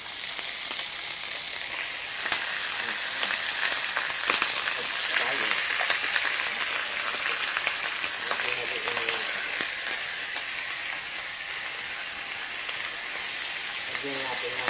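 Chicken pieces sizzling in hot oil for adobo, a loud, steady, close frying hiss that runs throughout with faint clinks and a voice underneath.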